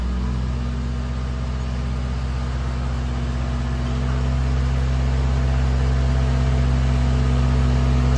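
A 2011 JLG 450AJ boom lift's four-cylinder diesel engine idles steadily nearby, a constant low rumbling drone with an even mechanical hum and no talk.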